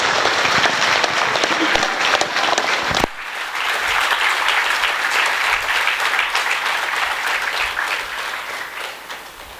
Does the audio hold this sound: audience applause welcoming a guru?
yes